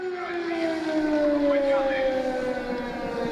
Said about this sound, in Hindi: ये एयर सायरन की आवाज जो कि लगातार लोगों में दहशत फैला रही है